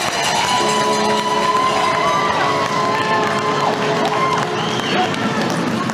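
Crowd at a college hockey game in a rec center, a steady roar of cheering and shouting spectators with arena noise and skate scrapes underneath throughout.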